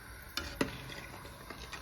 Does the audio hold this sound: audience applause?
no